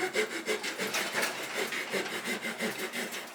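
Rasp filing a hardwood branch being shaped into a slingshot, a rhythmic scraping of quick back-and-forth strokes at a steady pace, close and fairly quiet with no talk.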